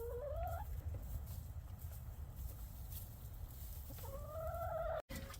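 Chickens kept in a winter coop on deep bedding, with a clear rising cluck-call at the start and another near the end over a low, steady background rumble.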